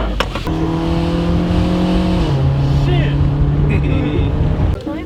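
A car engine hums steadily up close, its pitch dropping slightly midway, with people talking over it.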